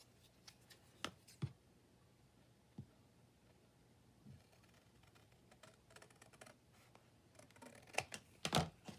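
Scissors trim a sheet of laminated paper to size in a quiet craft room, with scattered crisp snips and rustling clicks, sparse at first and then a quick close burst of cuts near the end.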